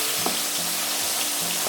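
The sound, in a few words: soy paste frying in hot oil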